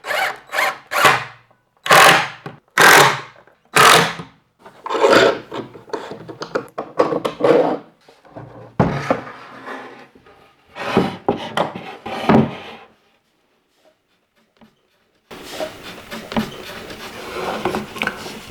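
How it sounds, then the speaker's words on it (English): Power drill driving pocket screws into a wooden panel held by a clamping jig, heard as several loud bursts of whirring and ratcheting separated by short pauses, with clattering handling noise between them. "So since the pocket screws are going to want to pull the panel down"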